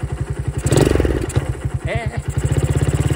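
A motorcycle engine with a carburetor under test revs hard toward high RPM in a close, loud, fast throbbing burst, with a brief rising whine in the middle, and no talk.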